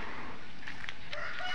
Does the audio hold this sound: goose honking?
yes